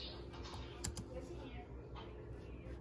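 Soft, quick keystrokes tap on a computer keyboard in a short burst, faint and close with a few sharper clicks.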